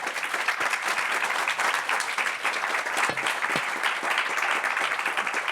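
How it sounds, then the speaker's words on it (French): Conference audience applauding the round-table speakers from partner companies, a steady, even wash of many hands clapping at moderate volume for several seconds with no talk over it. "On peut applaudir nos intervenants."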